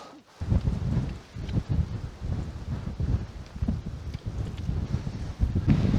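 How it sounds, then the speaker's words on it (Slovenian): Wind blowing at a mountain hut in the Slovenian Alps, a steady broadband rush with gusty surges and buffeting, moderately loud throughout with no voices. "Danes pa čist drug veter piha, kot prejšnje dni"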